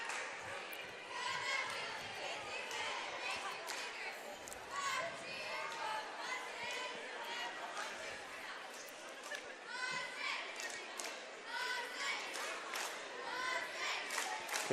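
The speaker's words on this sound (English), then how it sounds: "Can hear the crowd is in good spirits here." Crowd cheering and chattering in a school gym at a girls' basketball game, with shouts, whistles and ball bounces over steady background noise, heard from a distance.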